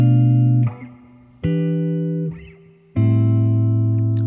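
Jazz guitar plays a minor ii-V-i progression, three sustained strummed chords with clear attacks about every 1.5 seconds, close and fairly loud with no talking.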